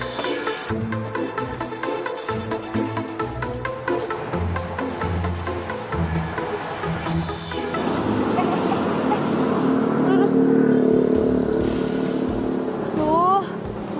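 A motorcycle with a flat tyre sputters and runs roughly, close and fairly loud, after a stretch of talking.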